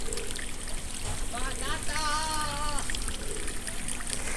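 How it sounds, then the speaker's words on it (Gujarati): Water runs from an opened supply to water trees outdoors, a soft continuous trickle under the background noise. A brief tonal voice-like sound rises over it midway. "મસ્ત મજાનું પાણી ચાલુ કર્યું છે ને ભાઈ."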